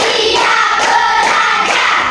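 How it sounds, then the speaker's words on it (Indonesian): A classroom of children claps a counted clap pattern, loud close bursts of hand claps falling in a regular rhythm of roughly one group every half second, with a faint voice under them. "Tepuk satu, tepuk dua, tepuk tiga, tepuk empat, tepuk lima"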